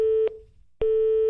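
A French telephone line cuts off after a long hold with a busy tone: two steady electronic beeps separated by a short gap, loud and clean with no talk.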